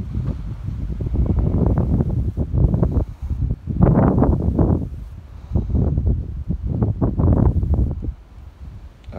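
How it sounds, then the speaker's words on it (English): Wind gusts buffet the microphone on a mountain trail, coming as loud, rough, low blasts in uneven surges with no voices. "A little bit windy this morning"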